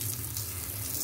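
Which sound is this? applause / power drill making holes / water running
water running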